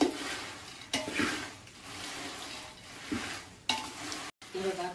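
Dried village chillies sizzle in hot oil in a pan, with soft crackling and a few louder stirring scrapes, close and moderately quiet, then a brief silence near the end.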